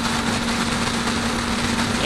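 A Yamaha MT motorcycle engine idles steadily, a continuous even hum with a low, constant drone and no revving across the short stretch.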